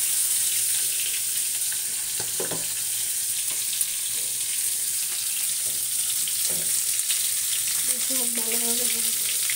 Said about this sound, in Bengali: এদিকে কিন্তু আমার মশলা কষানো হয়ে যাচ্ছে, আস্তে আস্তে হোক।